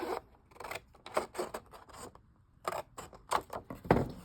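Scissors cut paper for a junk journal pocket in a string of close, crisp snipping and rustling strokes, with a brief pause midway before the cutting resumes.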